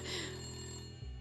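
A telephone rings in the video game Layton Brothers: Mystery Room, a steady electronic trill heard briefly and faintly under a low background hum.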